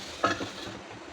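Broad beans for an avarakkai poriyal stir-fry cooking in a pan: a single quick spoon scrape over a soft, low sizzle, brief and close.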